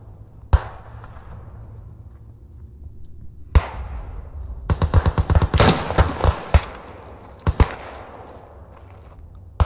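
Sniper rifle gunfire in the World War One game Beyond The Wire: sharp, loud single cracks with echoing tails, then a rapid cluster of distant shots and a few more isolated reports.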